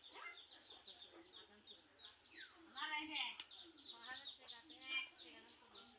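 Two young chickens, about two months old, cluck and chirp in a home poultry pen, with repeated close clucks and brief calls at moderate, uneven volume and no clear talk.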